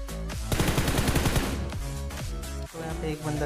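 Rapid bursts of automatic gunfire in PUBG Mobile, a dense volley of close shots followed by several spaced single and double reports, with faint talk underneath.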